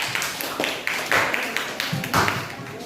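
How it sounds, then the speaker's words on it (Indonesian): A classroom of students applauding a group of classmates: a steady patter of many hands clapping, moderately loud, with uneven surges. "Tepuk tangan lagi untuk kelompok 1, Nak."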